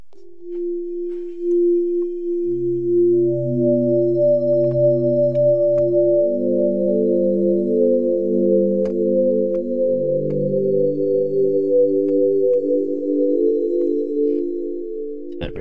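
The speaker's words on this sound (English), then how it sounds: "That real sort of ooey sine wave sound is a nice pad." Soft FM synth pad built from simple sine-wave tones: smooth, sustained notes layered into a slowly shifting chord, steady and warm, with no voices.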